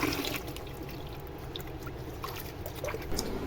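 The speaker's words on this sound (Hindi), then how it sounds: "अब अच्छे तरीके से 3 दफ़ा पानी से हम अपने चावल धो के भिगो देंगे 1 घंटे के लिए" Rice being rinsed with water, a steady soft watery swishing and trickling with small splashes, continuous and fairly quiet throughout, no voices.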